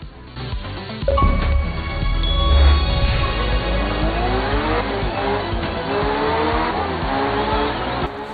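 A rally car racing on snow in the video game Art of Rally, its engine roaring and revving up through gears with rising and falling pitch, loud and close throughout, with no talk.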